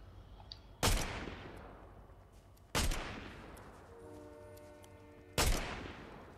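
Gunfire in Fortnite: three loud, sharp, distant-sounding shots spaced a couple of seconds apart, each leaving a long echoing tail, with a brief tonal in-game sound between the second and third.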